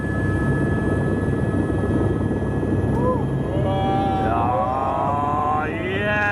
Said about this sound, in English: But this is our helicopter.